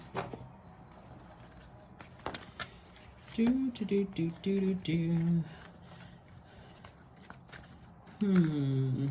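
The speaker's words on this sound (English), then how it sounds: "let me get another oracle card here" Oracle cards being shuffled and handled, with a quick riffle near the start followed by soft papery shuffling, while a person talks over part of it.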